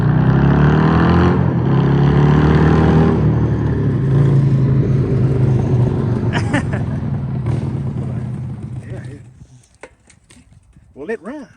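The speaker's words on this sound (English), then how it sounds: "It runs. It slings oil. It spits and sputters." A 1998 Harley-Davidson Sportster barn-find motorcycle engine runs loud and close with a rough, uneven rumble. It spits and sputters, then dies away near the end, followed by a few faint clicks.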